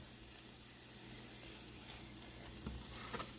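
Garlic cloves sauté in a pan, a faint, steady sizzle with a couple of small clicks toward the end.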